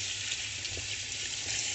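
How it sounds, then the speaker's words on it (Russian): A pepper washed under running tap water at a kitchen sink makes a steady, close, even hiss of flowing water with faint splashing and no voices. "Моем его под проточной водой."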